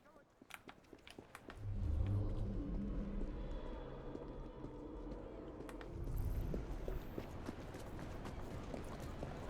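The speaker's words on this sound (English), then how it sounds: "A horse." Clip-clop of a horse's hooves in the video game Assassin's Creed Syndicate, a steady trotting rhythm over a low rumble of carriage and street noise, with occasional talk.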